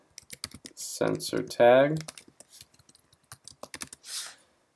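Keys clatter on a computer keyboard as a name is typed in quick irregular bursts, with a voice speaking briefly in between and near the start.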